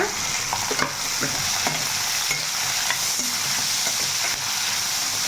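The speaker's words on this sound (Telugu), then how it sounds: "ఉల్లిపాయ వేసుకున్నాం ఈ ఉల్లిపాయ అనేది మనకి బాగా బ్రౌన్ కలర్ వచ్చేటట్టుగా బాగా మగ్గిపోవాలన్నమాట" Sliced onions with green chilies fry in hot oil in a pan, a steady close sizzle broken by intermittent scraping stirs.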